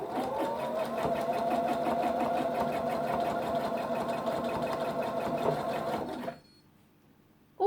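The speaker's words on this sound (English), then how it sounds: "again do a couple of back stitches" A sewing machine stitches steadily across a kitchen towel with a fast, even mechanical whirr and clatter for about six seconds, then stops abruptly into near silence.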